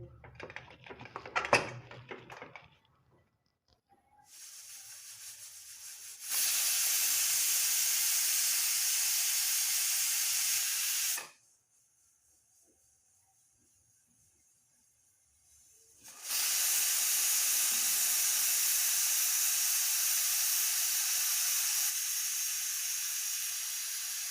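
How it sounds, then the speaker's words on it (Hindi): Loud, steady steam hissing from a pressure cooker whistle in two long bursts separated by a quiet pause, following a brief clatter at the start, while cooking aloo matar curry. "अब प्रेशर कुकर को ढककर अच्छे से 2 सीटी कर लेंगे"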